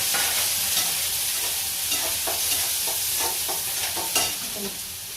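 Onion, turmeric and potatoes sizzle steadily in a hot pan while a spoon stirs and scrapes in a loose, repeated rhythm.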